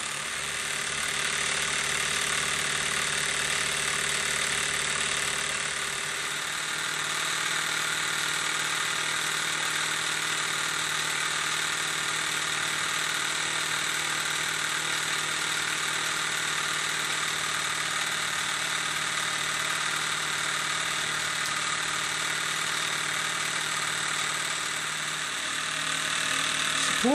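A Mamod SP1 model steam engine runs continuously on a non-slip mat, a steady mechanical hum and hiss with a rapid, even vibration that keeps going without pause and with no talking.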